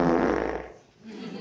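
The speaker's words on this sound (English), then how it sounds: "Is farting a sign of good gut health?" A short fart, fairly loud and close, with a low rasping start that trails off over about a second before a faint hiss. It stands alone with no talking over it.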